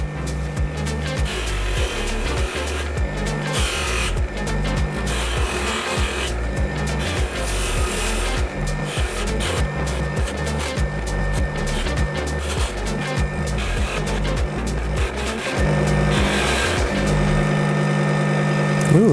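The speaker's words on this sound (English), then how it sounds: "I think I'm gonna do a satin finish with this, you know, I don't even know what this is called, like a satin wheel or something." Silver amethyst pendant worked against a spinning satin finishing wheel on a motorized polishing machine, a continuous mechanical whir and rubbing grind with a steady pulsing rhythm, growing louder and denser toward the end.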